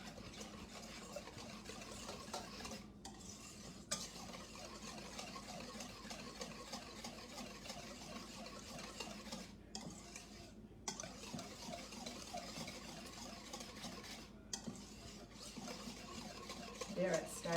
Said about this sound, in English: Just keep whisking until it starts to thicken.